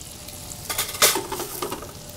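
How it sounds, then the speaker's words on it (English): Mushrooms and shallots sauté in a pan over high flame, with a soft sizzle and a few quick scraping stirs and a clink of utensil at close range, brief and with no talk. "When you see the shallots starting to get nice and brown"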